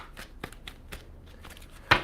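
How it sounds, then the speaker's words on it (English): A tarot card deck being shuffled, with a few soft riffling rustles and then a sharper, louder riffle at the end, close by and without talk. "Give me 2 shuffles for Taurus, please, and thank you."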